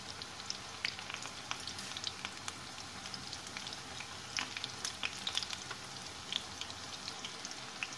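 Cauliflower frying in oil gives a steady, fairly quiet crackling sizzle with scattered sharper pops throughout, and no voices.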